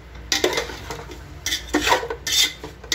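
Biryani masala with meat stirred in a pot, a spoon scraping and clinking against the pot in short, uneven strokes, close and moderately loud, no voices.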